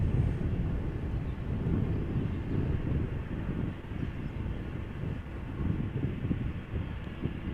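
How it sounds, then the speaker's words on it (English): A KLM Boeing 737-700 departing Amsterdam Schiphol for Billund gives a steady, distant low engine roar with wind noise, continuous and alone without talk. "It is followed by a Boeing 737-700 from KLM, outbound to Billund."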